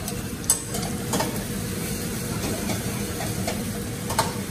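Tuna skin frying in a pan gives a steady close sizzle with occasional sharp pops and utensil scrapes, crackling evenly throughout with no talking.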